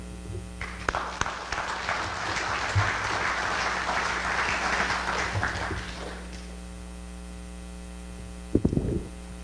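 Audience applause at an informational meeting in Holstein, Iowa, welcoming a speaker, a steady round of clapping that swells and fades out over several seconds over a mains hum, followed by a brief tap near the end.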